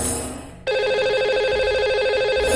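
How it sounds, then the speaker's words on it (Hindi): A telephone line for a call-in radio show starts ringing after a brief quiet lead-in, then holds a loud, steady electronic ring tone to the end. "इन्हें लगाते हैं अब हम कॉल।"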